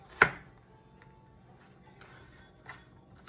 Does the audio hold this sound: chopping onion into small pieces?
yes